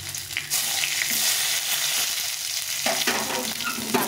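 Ginger and a bay leaf fry in hot oil for tomato-coriander sour dal, giving a steady, close sizzle and hiss with no voices.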